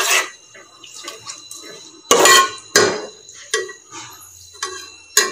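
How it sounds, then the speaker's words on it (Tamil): A spoon stirs coconut-milk biryani in a cooking pot, with sharp metallic scrapes and clanks against the pot coming in irregular bursts, several louder knocks standing out close up with no talking. "நல்லா கிண்டி விட்டுக்கோங்க"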